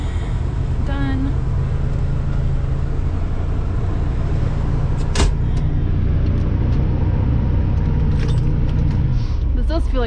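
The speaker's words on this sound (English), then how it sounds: "This does feel like driving a school bus" A large RV motorhome driving along, its steady low engine and road rumble continuous throughout with faint rattles and a brief knock midway.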